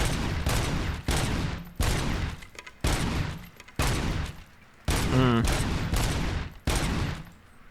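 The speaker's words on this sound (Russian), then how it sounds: "Это у меня это оружие теперь так стреляет." Upgraded weapon fire in the video game RoboCop: Rogue City comes as about seven heavy, booming bursts, each sharp at the onset and then decaying. Brief gaps separate the bursts, and a voice is heard during the firing.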